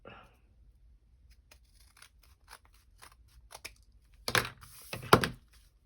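Scissors trimming the pages of a stapled paint chip booklet, a few faint ticks of handling, then two crisp close snips near the end.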